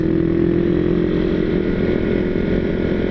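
A Honda Tiger motorcycle with a stock engine runs loud and close, holding a steady, throaty engine note with a slight rise in the throttle.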